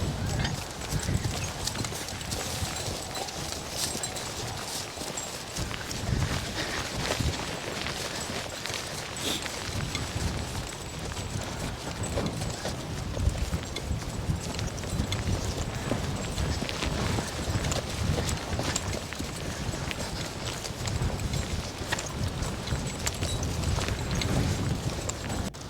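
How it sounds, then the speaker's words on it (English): Draft horses being driven home from disking a field after a tiling job, their hooves clip-clopping in a steady, continuous rhythm close by for the whole stretch, with a faint whinny and occasional talking mixed in. "Jim decided to let my cousin Cindy drive the horses home"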